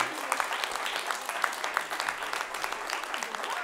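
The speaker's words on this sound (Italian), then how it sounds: "facciamo un applauso ad Aurelio" An audience applauds a quiz answer on an Italian children's show. The clapping is lively and continuous, with crisp individual claps over a dense wash, and no one speaks over it.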